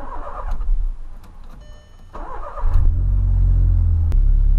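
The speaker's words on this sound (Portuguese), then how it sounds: "Essa é a primeira partida do dia que a gente tá dando no polo." A Volkswagen Polo's engine cranks and fires up for the first start of the day, settling into a loud, steady idle close by after brief starter whirring.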